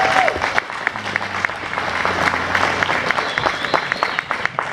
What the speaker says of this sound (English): How about a nice round of applause for Aaron Shelby?